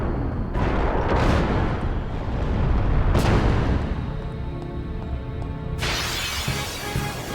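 Ifrit's attack explosions in Final Fantasy X, a series of loud booming blasts with shattering crashes, sharp bursts at intervals followed by rumbling decay and a final crackling burst.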